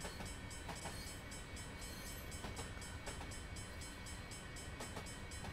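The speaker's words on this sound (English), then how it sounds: "So we got another short train over here today" A train rolls past in Train Simulator 2020 near Cheyenne on Sherman Hill, a steady loud rumble with rhythmic wheel clicks over the rail joints.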